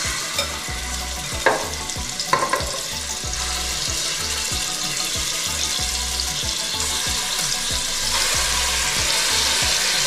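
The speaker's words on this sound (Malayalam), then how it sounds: "ഈ മസാല പിടിച്ച ചെമ്മീൻ ഈ കുക്കറിൽ എണ്ണ ഒഴിച്ച് അത് ചൂടായിട്ടുണ്ട്" Masala-marinated prawns frying in hot oil inside a pressure cooker: a continuous loud sizzle with a few stirring scrapes early on, the hiss growing stronger toward the end, no voices.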